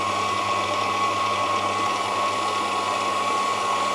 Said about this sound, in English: I'm going to close my baking machine now once again, and then I'll put it on number 3.